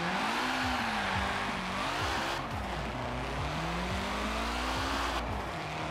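A Nissan Silvia on sport tyres in Forza Horizon 4 drones steadily through a test drive, its engine pitch rising and dipping with gear changes and throttle, tyres faintly squealing throughout.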